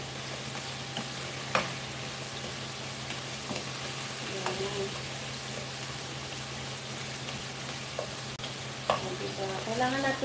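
Food browning in a hot pan, with a steady sizzle and crackle throughout, broken by occasional stirring scrapes and clinks close by.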